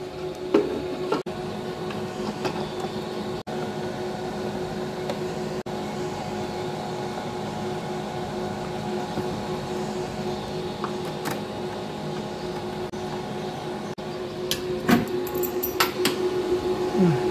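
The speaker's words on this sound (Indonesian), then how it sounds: "Kipas boosternya sudah nyala, cukup berisik suaranya" A booster fan at a centralized solar power plant drones steadily and noisily, humming continuously with a constant tonal whine, with a few faint clicks and knocks near the end.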